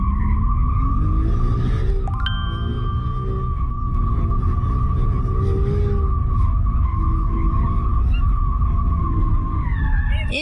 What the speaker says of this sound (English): I'll show you what a proper drift looks like